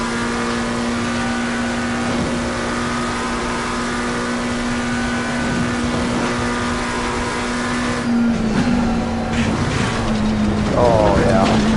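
Lamborghini race car in the Assetto Corsa racing game holds a loud, steady engine drone with a strong tonal whine, then shifts and revs with rising pitch sweeps near the end, with a voice talking over it.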